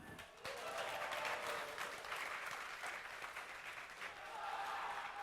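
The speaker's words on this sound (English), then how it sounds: "let me hear you guys cheer for Curse." Large arena crowd cheering and applauding for Curse Gaming at a DreamHack summer 2012 League of Legends esports match, a loud sustained roar of clapping and shouting that holds steady for several seconds.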